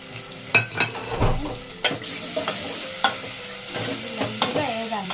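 Tomatoes tossed into a hot, sizzling pan of chicken curry, with a steady fry under repeated spoon-and-pan knocks and scraping as the mixture is stirred, close and moderately loud.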